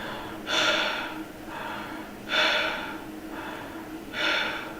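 A voice imitates a patient's breathing with three slow, loud, rhythmic breaths in close succession, each a harsh airy rush followed by a quieter pause.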